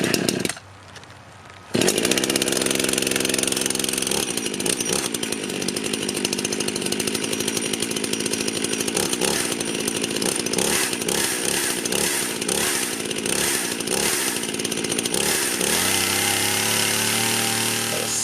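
A Husqvarna 51 chainsaw engine runs after tuning, slightly rich. After a brief quieter idle it roars up to a loud, raspy, sustained run, revving and wavering with uneven throttle blips, close by, with no talking.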